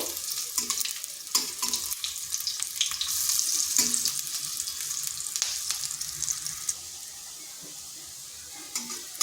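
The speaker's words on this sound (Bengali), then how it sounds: "এইভাবে হালকা বাদামি কালার করে ভেজে নিচ্ছি সমস্তগুলোকে এইভাবে ভেজে নেব" Pointed gourd (potol) fries in oil until light brown, a busy close sizzle with scattered clinks and scrapes, mixed with a watery rush like a running tap.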